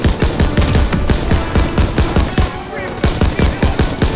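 Rapid bursts of automatic gunfire from Call of Duty: WWII, a World War II shooter, rattle loudly and almost continuously in close, rhythmic volleys with only a brief lull partway through.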